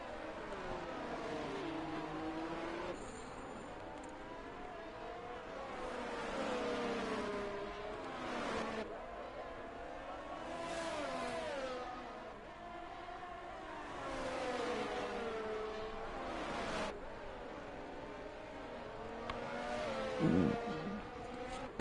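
Race cars in a racing video game on the Singapore circuit, engines screaming as they accelerate and shift up and down in repeated rising whines, fairly faint and continuous with no voices.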